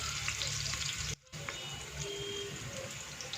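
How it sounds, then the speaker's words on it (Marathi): Onion sautéing in oil in a pan for jeera matar rice, a continuous close sizzle with soft stirring noises and a momentary break, moderately quiet and free of speech. "कांदा 2 मिनिटं परतून घ्यायचा, जास्त परतून नाही घ्यायचा कांदा"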